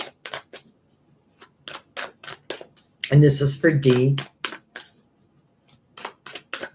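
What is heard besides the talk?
shuffling tarot cards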